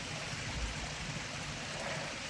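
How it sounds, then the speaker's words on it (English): A mountain stream beside an Appalachian Trail path flows steadily, a soft continuous rushing wash, faint and even with no voices. "I'm gonna rest here by the stream for a minute"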